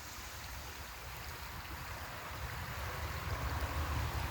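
Creek water flows steadily with a continuous broadband rush and low burbling, holding an even level throughout and swelling slightly toward the end, with no voices.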